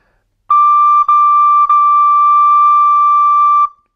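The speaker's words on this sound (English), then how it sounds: "And you have high D, okay? And it sounds like this." A recorder sounds a high D, a pure, steady whistle-like tone held for about three seconds, loud and close, with two brief breaks early on and no talking.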